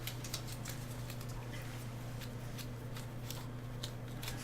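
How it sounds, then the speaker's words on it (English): Tape peels off a painting in a series of short, quick crackling rips, close and fairly faint over a low steady hum, with no talking. "So I'll remove the tape,"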